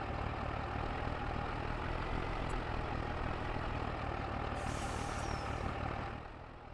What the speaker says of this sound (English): zoom out so we don't have to hear the truck